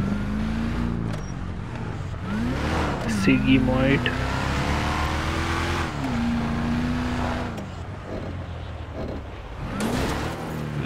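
Car engine in GTA 5 during a car parkour race, revving and rising and falling in pitch with tire noise over about eleven seconds, while someone talks excitedly over it.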